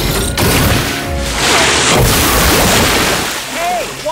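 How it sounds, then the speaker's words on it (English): A cartoon water cannon blasts in a rushing, splashy burst lasting a few seconds, layered with a boom and a dense watery spray beneath animated voices. "Use your water cannon to move that mayor."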